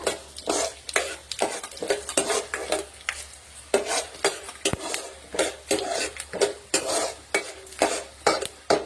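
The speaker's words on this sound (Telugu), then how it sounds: "పల్లీలు అయితే వేగిపోతున్నాయి. ధనియాలు వేస్తున్నాను." Peanuts dry-roasting in a pan with coriander seeds, rapid rattling and scraping as a spoon stirs them against the metal, a busy, uneven rhythm of clicks close by with a faint sizzle beneath.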